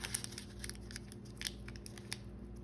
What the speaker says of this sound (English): I can just cut this piece off